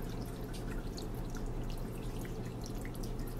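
Lukewarm water is poured into a self-heating instant noodle hot pot, a steady close splashing and trickling with small drips throughout.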